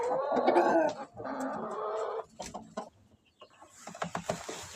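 Brahma chickens cluck in a coop, with several close, busy bursts of clucking that give way to sparser, softer calls.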